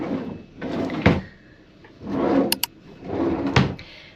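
Hotel room drawers sliding open and shut several times, each run ending in a soft wooden bump, with a couple of sharp clicks in between, close and alone.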